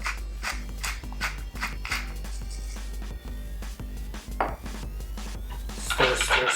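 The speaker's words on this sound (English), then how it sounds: "Stir, stir, stir." A utensil stirs a Thai peanut sauce mixture for chicken thighs, with repeated clinks and scrapes against the bowl in a steady rhythm over a low constant hum, and a busier flurry of clatter at the end.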